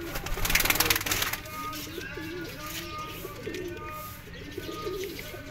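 Pigeons cooing nearby in soft, repeated throaty rolls, a few overlapping calls in a steady rhythm after a brief noisy burst at the start, with no speech.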